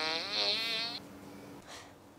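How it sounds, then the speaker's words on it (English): A buzzy, drawn-out fart noise lasting about a second, close and fairly loud, followed by a fainter, brief rasp. "he does a fart noise and I just heard it"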